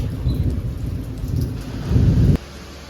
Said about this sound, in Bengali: বাইরে তো বৃষ্টি হয়েই যাচ্ছে